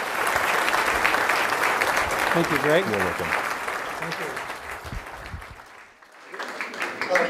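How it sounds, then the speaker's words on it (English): An audience applauds a speaker at a talk on Kahlil Gibran's The Prophet, with dense sustained clapping that fades toward the end while a couple of voices exchange brief words over it. "please, a big round of applause for Mr."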